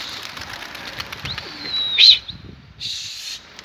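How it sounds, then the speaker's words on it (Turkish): Baska pigeons taking flight, with bursts of wing flapping and a few coos over an outdoor background; wing claps come close and fairly loud in short clusters. "güzel kuşları, güzel baskıları adam uçuruyor"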